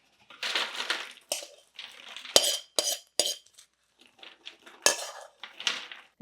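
Dry keto Chex mix scattered and spread across a metal baking sheet, producing bursts of crunchy rattling and clinking in irregular clusters, close and fairly loud with short pauses between.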